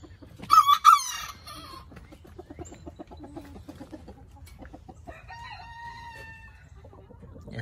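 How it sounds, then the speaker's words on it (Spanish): A rooster in a backyard coop with hens lets out a loud, close crow near the start, followed by softer clucking and scattered fowl calls. "Y el gallo parece que todavía sigue."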